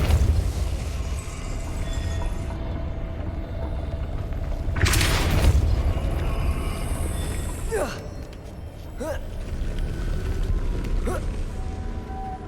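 Depulso force-push spell cast in Hogwarts Legacy, a loud whooshing burst of magic with a heavy boom, followed by lighter game effects and a few sharp cracks.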